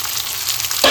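Onion, tomatoes and green chilies frying in a pan make a steady close-up sizzle, with a brief brighter hiss right at the end as something stirs or shifts in the hot oil.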